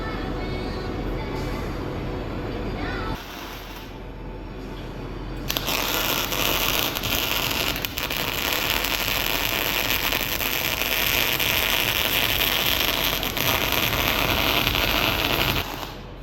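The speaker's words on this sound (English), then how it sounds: "Time to weld these in." Parts are welded onto a shear grab during a repair. After a few seconds of quieter background noise, a loud, dense crackling hiss starts and runs steadily to the end, close up.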